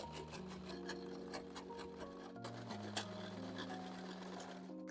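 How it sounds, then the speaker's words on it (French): A sewing machine runs steadily, stitching a folded fabric strip 5 mm from its edge for a tote bag, its motor drone and needle ticking continuous and fairly quiet, with no talk. "Et là, je vais coudre à 5 mm du bord."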